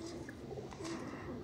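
Sialkoti Sheikh pigeons coo softly at close range in a short burst of low, repeated rolling calls, with faint background noise around them.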